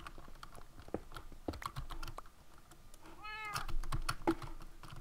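A cat meows once in the Minecraft Feed The Beast modpack, a short, faint game-style call heard over steady computer keyboard typing and mouse clicks.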